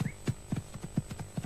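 Horse hooves clip-clopping at a steady walking rhythm, hollow knocks of moderate loudness repeating several times a second, with no talking.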